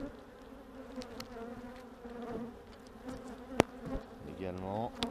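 A steady hum of honeybees buzzing close by on a brood frame pulled from a Saunier Duval Too Bee hive, with a few soft clicks and knocks, and a short rising whine near the end.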